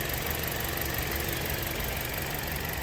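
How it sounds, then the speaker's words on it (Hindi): A Toyota Corolla engine runs steadily at idle with a misfire and vibration, a continuous close, even drone without a break and with no talk. "इंजन की पावर जो है वो कम है, इंजन में वाइब्रेशन है"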